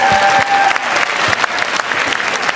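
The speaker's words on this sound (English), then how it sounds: "Big round of applause for our national finalists at the back." Loud, dense applause fills a large hall at a national beauty pageant coronation night, a crowd cheering its finalists with continuous clapping throughout.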